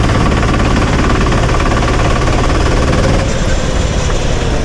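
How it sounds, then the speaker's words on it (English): A racing kart engine at a karting endurance event runs loud and close as the kart pulls away from a stop box, a steady buzzing drone with rattling vibration and no talking. "then get the kart going again."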